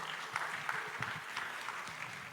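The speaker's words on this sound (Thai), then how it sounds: "ปรบมือให้เขาได้นะครับ" Audience members applaud after a band's performance with faint, scattered clapping heard at a distance, individual claps picking out of a low murmur.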